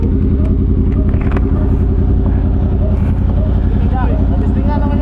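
A Kawasaki ZX-10R motorcycle idles and rumbles at low speed in traffic, a steady loud engine drone under nearby talking with traffic noise around.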